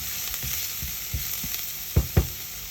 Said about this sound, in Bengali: একটি প্যানের মধ্যে সামান্য তেল দিয়ে দিয়ে দিলাম চার কুয়া রসুন কুচি এটাকে সামান্য ভেজে নিব